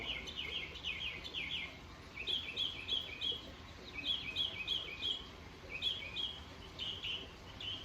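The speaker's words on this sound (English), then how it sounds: "hearing the birds sing" Faint birdsong repeats in short chirping phrases throughout, distant and steady over a soft background hiss.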